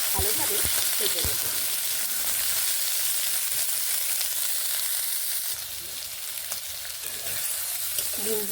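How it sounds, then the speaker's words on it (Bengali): Green beans fry in hot oil with a sprinkle of salt, giving a steady, loud sizzle throughout, with a few brief scraping stirs near the start and a slight drop in intensity partway through. "বিনসগুলোকে ভেজে নেব"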